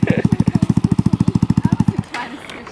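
Cafe racer motorcycle on Siargao Island, a loud, close, rapid pulsing engine beat that holds steady, then cuts off abruptly after about two seconds, leaving faint background noise.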